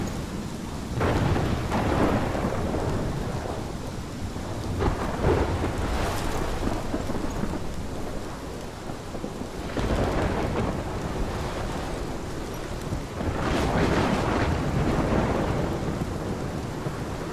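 Thunderstorm with heavy, constant rain in the Life Is Strange video game, rumbling thunderclaps rolling in every few seconds over the steady downpour, with no speech.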